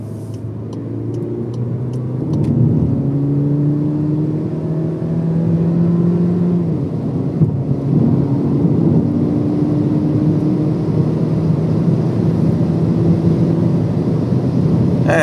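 A VW Polo GTS fitted with a downpipe accelerates on the road, its engine note climbing through the revs in rising pulls and falling back between shifts, heard steadily from inside the car.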